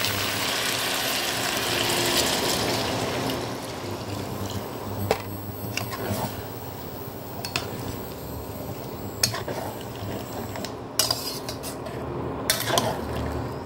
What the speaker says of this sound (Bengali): আমি অল্প করে জল দিয়ে ঢাকা দিয়ে দেবো